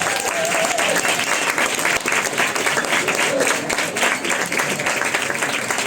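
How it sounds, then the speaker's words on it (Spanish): Applause at a Psychobeers event marking its one-year anniversary: a dense, loud crowd of hands clapping steadily throughout, with faint voices mixed in beneath. "Así que un aplauso, Psychobeers."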